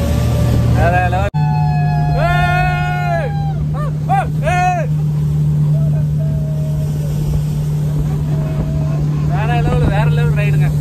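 A motorboat speeds across water, its engine a loud steady drone with rushing wind and water noise throughout, and voices speak excitedly over it at intervals.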